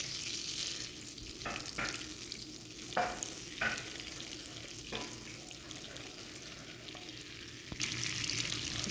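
Quiet sizzling in a pan as flour is stirred in for a white sauce, with occasional scraping strokes of stirring, close and fairly faint, no talking.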